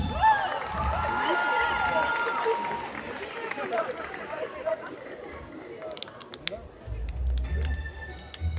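Crowd at a cosplay contest applauding a contestant, a broad wash of clapping and cheering mixed with chatter, fading into scattered claps and a stage announcer's voice.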